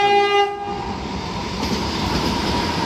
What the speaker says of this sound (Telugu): మన ట్రైన్ పక్కనే ఇప్పుడే ఇంకొక ట్రైన్ వెళ్తుంది